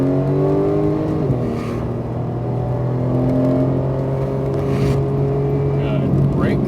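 A Porsche 911 GT3 accelerating on a racetrack: a loud, close engine note climbs steadily through the revs from inside the car, with an instructor's voice briefly speaking over it.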